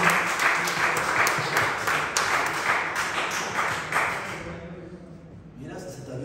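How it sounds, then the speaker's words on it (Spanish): Audience applause at a lucha libre press conference, a dense burst of clapping that fades out toward the end, with a voice talking over it. "Un aplauso a los caballeros para ella."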